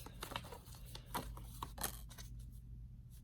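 Tarot cards are shuffled quickly by hand, giving a close run of crisp riffling snaps and papery flicks with no talking.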